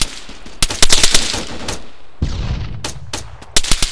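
Machine gun fire in the military shooter Arma 3: repeated loud bursts of automatic fire in quick, uneven rhythm with louder cracks, near and unrelenting, with no voices.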